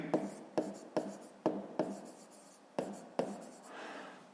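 Pen strokes scratching across paper during a fifth-grade maths exercise, seven short sharp scrapes in an uneven rhythm, close and fairly quiet, ending in a longer softer rub.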